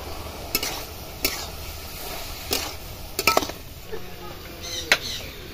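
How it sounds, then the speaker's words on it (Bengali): Chili and onion paste hitting a hot pan, a low frying sizzle broken by repeated sharp spoon-and-pan clinks and stirring scrapes, close and fairly loud. "আমি ওর মধ্যে লঙ্কা পেঁয়াজ বাটাটা দিচ্ছি।"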